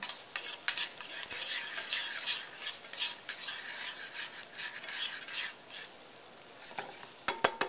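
Onions sizzle and caramelize in a pan for a chicken chasseur, a steady crackling hiss broken by irregular scraping and stirring strokes, close and moderately loud, with a few sharp clicks near the end.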